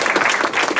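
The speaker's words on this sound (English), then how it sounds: "yeah, you can clap. It's worth clapping for." Audience applause at a talk on Egyptian archaeology, a short dense burst of clapping from many hands, loud and close, with no speech.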